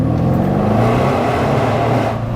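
A 735bhp Mercedes E63 AMG with a straight pipe exhaust revs hard, a loud, close, rough engine roar sustained throughout with no speech.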